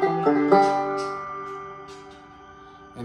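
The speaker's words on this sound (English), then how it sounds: "the other one is a shimmery reverb, which gives us that kind of shoegaze ambient noise." Banjo picked through the shimmery reverb of a Strymon Blue Sky pedal, a few quick plucked notes followed by a smeared ambient tail that fades, then another note at the end, quiet and close.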